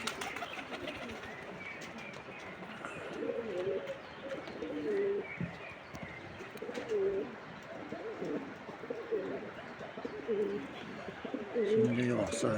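Pigeons cooing in repeated soft, throaty phrases close by, over a background murmur of people talking at a bird market.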